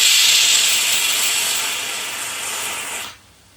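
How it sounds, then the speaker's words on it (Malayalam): A pressure cooker cooking dal vents with a loud, steady steam hiss and whistle, holding for about three seconds before cutting off abruptly into near silence. "നമ്മുടെ കുക്കറിൽ ആദ്യത്തെ വിസിൽ വന്നിട്ടുണ്ടായിരുന്നു"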